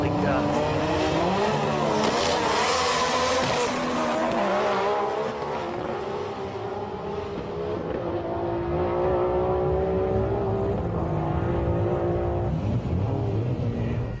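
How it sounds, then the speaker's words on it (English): Old-school JDM drag car, likely a Nissan Skyline R32 with twin HKS turbos, roaring loudly at a drag meet with a sustained high-revving engine and tire squeal, continuous and close throughout. "Great sounding car."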